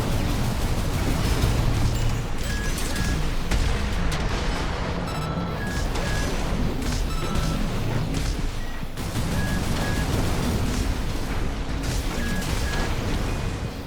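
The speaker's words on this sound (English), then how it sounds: "she is dual-wielding grenade launchers" Grenade launcher blasts in Armored Core 6 arena combat, with repeated heavy booms and crashes layered over a constant loud mech battle din, punctuated by short electronic beeps.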